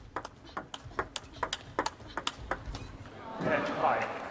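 A table tennis ball is struck back and forth by rackets in a fast rally at a women's singles match at WTT China Smash, giving a dozen crisp, evenly spaced pings, followed by a rising crowd roar.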